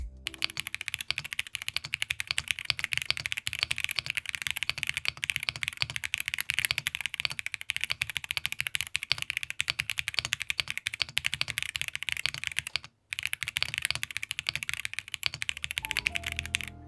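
A MonsGeek mechanical keyboard in matte black is typed on steadily and alone, with dense, even clacking keystrokes at close range, fairly quiet, and one brief pause near the end.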